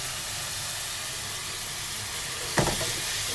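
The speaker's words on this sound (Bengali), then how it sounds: "এই যে করলা ভাজি করবো করলা ভাজি বসাই দিচ্ছি" Bitter gourd (karela) frying in a pan, a steady broad hiss of oil throughout, with a brief louder sizzling burst near the end.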